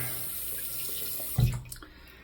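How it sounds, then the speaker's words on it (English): Tap water runs steadily while a razor is rinsed under it, a soft continuous wash that ends in a brief louder splash near the end. "I rinsed the razor really well here"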